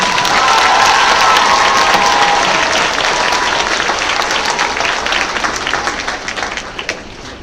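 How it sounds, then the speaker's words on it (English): Audience applause at a 5th grade promotion ceremony, a dense, steady wash of clapping from a crowd that holds strong, then slowly thins and fades toward the end. "Give another round of applause for Miss Seventh"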